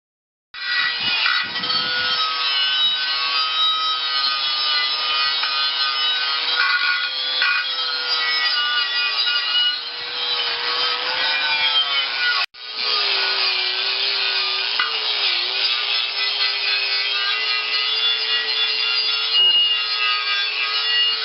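A power sander grinds steadily on old steel tractor wheel rims at a tree farm, a loud continuous whine with slight pitch wavering and one brief interruption midway, with no voices.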